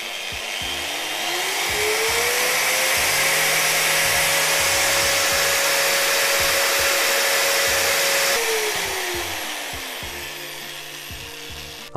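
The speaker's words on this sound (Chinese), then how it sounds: "这回可以愉快的使用角磨机了" A Bosch angle grinder fitted with an upgraded speed controller spins up, holds a steady high whine for several seconds, then winds down. It runs loud and close, with no voices.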